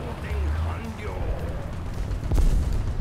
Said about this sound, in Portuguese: essa bomba bugou? Porque, tipo, amigo, quanto tempo essa bomba caiu da explosão aí?